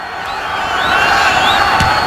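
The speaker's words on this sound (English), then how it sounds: "You got the crowd noise." Stadium crowd roaring at a Ravens at Bengals NFL football game, a broad sustained wash of cheering that swells and stays loud, with a faint thump in the background.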